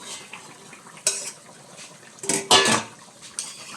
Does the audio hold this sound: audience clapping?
no